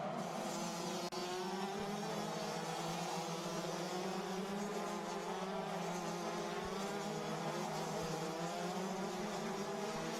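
Rotax DD2 racing karts at the Genk track, a constant high buzzing drone of two-stroke engines heard from a distance, with no clear passes standing out, no talking.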